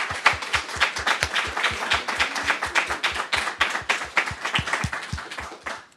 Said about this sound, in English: I propose another round of applause